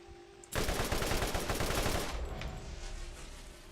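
Assault rifle fire in Borderlands: a sudden, loud burst of rapid automatic shots lasting about a second and a half, then trailing into a fading echo.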